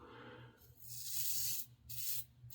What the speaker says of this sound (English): now that I'm shaving all this, I'm really going heavy in there